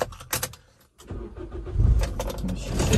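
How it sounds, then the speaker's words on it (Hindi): A car engine cranks and catches with a brief whir and rumble, preceded by a few clicks and rattles, then settles into a low idle before the car is driven out; close and moderately loud. "अभी गाड़ी को निकालते हैं।"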